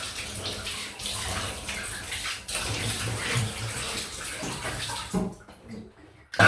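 Cold water runs from a tap in a steady splashing stream for a rinse, close and continuous before it cuts off near the end.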